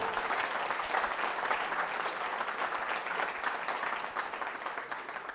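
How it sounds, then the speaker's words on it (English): School band members and audience applaud at a band festival closing ceremony, a steady, dense round of clapping heard throughout, moderately loud and without talk. "Give yourselves a round of applause."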